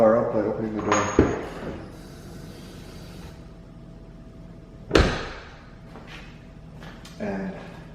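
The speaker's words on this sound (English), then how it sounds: "Now I'm going to try to wake the car up by opening the door." A sharp click and thunk as the door of a BMW E70 X5 opens, followed by another clunk a few seconds later, with muffled voices in the background.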